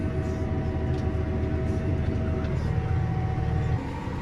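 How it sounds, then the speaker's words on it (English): A farm tractor working a wheat field runs with a steady, heavy low drone that rises slightly near the end, its rumble constant and close throughout. "It does try to roar when you put your foot down, but it kind of just sounds like a dustbin lorry."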